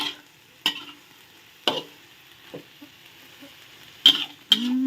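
Ginger chicken stir-fried with bell peppers, onion, tomato and vegetables until wilted: a steady sizzle in the pan broken by several sharp scrapes and clacks of a spatula, close and fairly loud, with no talking.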